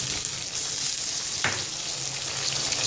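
Onion frying in a pan with tomato, green chilli, ginger-garlic paste, red chilli, turmeric and salt added for an aloo matar shorba curry, a steady close sizzle throughout with one brief stirring scrape midway, no talking.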